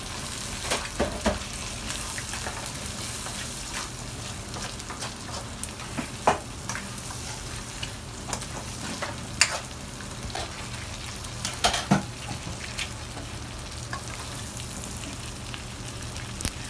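Crab pieces fry with garlic and onion in a pan under steady stirring, giving a dense, continuous sizzle with occasional scraping clicks and pops, no voices.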